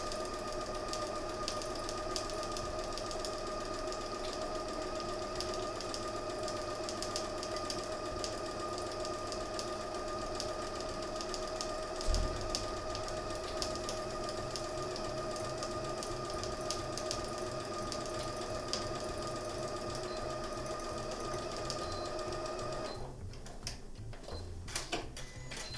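A domestic sewing machine stitching all the way around a fabric baby toiletry bag: a faint, steady mechanical whir with fast ticking that runs throughout and shifts briefly near the end.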